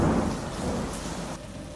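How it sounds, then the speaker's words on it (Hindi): A heavy rainstorm with strong wind roars loudly and steadily in an animated story, a dense, continuous downpour with thunder-like rumble, fading slightly toward the end. "राजा आदित्य के गिरते ही तेज हवाएं चलने लगी और भयंकर वर्षा होने लगी।"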